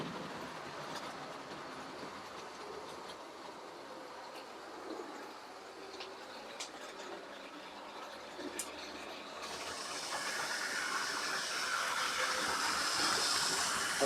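A model railway locomotive, a Class 47, runs on a station layout with a faint rolling rumble and light clicks that swell into a louder, steadier running noise toward the end.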